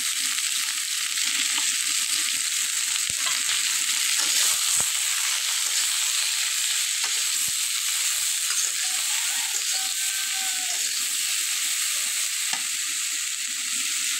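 Fish head frying in a pan with turmeric and salt, a dense continuous sizzle with occasional light stirring taps, steady and close throughout.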